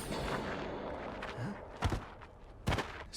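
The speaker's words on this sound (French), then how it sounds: "Ça s'appelle un coup de feu" Gunfire in a TV series scene, two sharp, loud shots about a second apart over a busy, muffled background.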